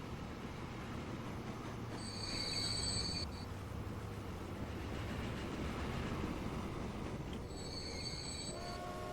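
Trains in the Transport Fever tycoon game rumble steadily along the rails, with sharp wheel squeals rising twice and a faint horn-like tone near the end; no one speaks.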